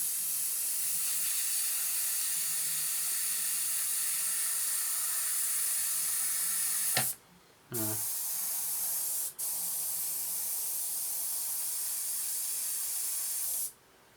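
Continuous loud hiss of an aerosol can spraying varnish on a 1/48 scale SE5a model aircraft, briefly cut off twice before resuming, ending with a short pause.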